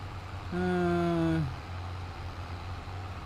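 Tractor engine in Farming Simulator 22 laboring under a heavy load, a low steady drone with a brief louder whining surge of strained harmonics lasting about a second before settling back to a rumble.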